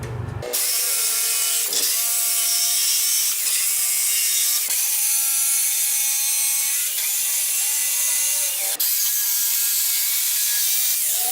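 A jigsaw saws through a wooden pallet in a steady, loud, continuous buzzing cut that runs without a break, with brief dips and restarts every couple of seconds as the blade is pushed onward.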